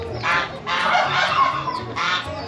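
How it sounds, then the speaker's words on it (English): Geese honk loudly and close by in misty mountain country in Bali, three harsh bursts in quick succession. "Birds are too unpredictable."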